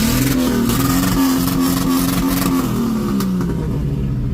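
Loud engine of a Comanche truck that has just lost its exhaust at a car show, a steady raw rumble revving up and easing off over a few seconds, close by with no talk.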